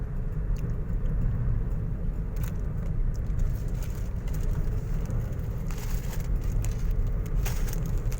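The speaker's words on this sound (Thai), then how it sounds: "รถคันหนึ่ง" A car rolls past on a rural road through hilly forest, its steady engine rumble and tyre noise holding loud and close across the whole stretch, with a few gritty crunching bursts mixed in and no talking.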